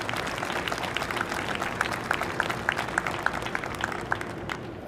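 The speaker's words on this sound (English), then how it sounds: "give Elaine Luria another round of applause" Distant applause from a large crowd at a submarine keel-laying ceremony, a continuous patter of many hands clapping, fairly faint and even throughout.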